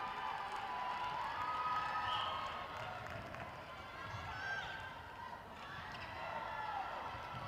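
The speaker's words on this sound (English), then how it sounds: "Crowd looked like it was getting a bit loud there for that one onlooker." Spectators at a youth netball world cup finals match raise a broad crowd roar with cheering, shouts and scattered clapping that swells and ebbs, heard at a distance over arena background and whistle-like tones.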